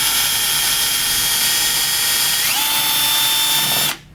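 A power drill set to reverse backs out a security screw, its steady loud whine running alone for about four seconds, shifting pitch partway through, then cutting off abruptly.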